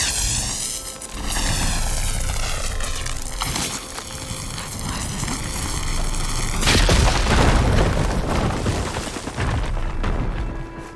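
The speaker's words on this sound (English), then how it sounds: "Should be able to blow up that fire gleam." A fire gleam is blown up in Horizon Forbidden West, sounding as a loud booming blast with crackling debris, following a rising tonal whine and mechanical clatter, with the rumble fading over several seconds.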